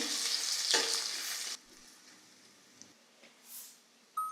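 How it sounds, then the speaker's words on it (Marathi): Cumin, black pepper, dried red chillies and sliced onion hit hot oil for Punjabi kadhi: a loud burst of sizzling with stirring for about a second and a half, then dropping to a faint simmer with a few small clinks. "मिरी, सुक्या लाल मिरच्या, लांब लांब कापलेला कांदा. हे चांगलं आपल्याला परतून घ्यायचं आहे."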